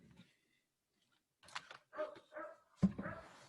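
A small dog across the street from a house lets out a few sharp barks in a loose cluster after a quiet pause, distant-sounding and faint in an otherwise still room.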